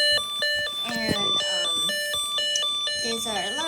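A Snap Circuits alarm circuit sounds a loud, repeating electronic tone pattern, like a ringtone melody, with short beeping notes and warbling sweeps throughout.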